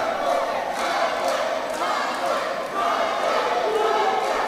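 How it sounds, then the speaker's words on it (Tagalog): A boxing arena crowd shouts and roars continuously during a fight between John Paul Gabunilas and Jesse Espinas, a dense, loud wash of voices. "I don't know what the crowd are shouting."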